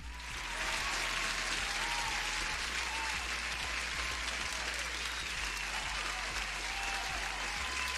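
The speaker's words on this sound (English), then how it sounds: "huge applause to everyone" Dense, even applause runs unbroken from start to finish at a steady level over a low, constant hum.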